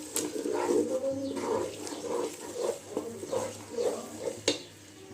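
Onions and ginger garlic paste fry in a pan for beef biryani, a soft low sizzle under rhythmic stirring scrapes, with one sharper knock near the end and no talking.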